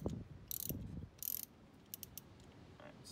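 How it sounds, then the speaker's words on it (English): A wrench tightening a spark plug on an MK6 Volkswagen GLI during an ignition coil and spark plug replacement gives a few faint, quick ratcheting clicks and metallic bursts, close and quiet, with no talking. "then you do 2/3 of a turn with the wrench afterwards to crush the crush washer"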